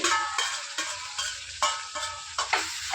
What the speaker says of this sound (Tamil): கொத்தமல்லி நல்லா வதக்கி விடுங்க